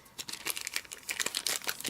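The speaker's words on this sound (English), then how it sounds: "pop it in my protective plastic bag" A freshly inked rubber stamp being slipped into a protective plastic bag, giving close, quiet crinkling and rustling of thin plastic in quick irregular bursts with no talk.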